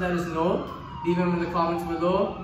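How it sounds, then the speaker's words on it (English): A wailing siren rises and falls a few times while a person talks over it. "That's the siren."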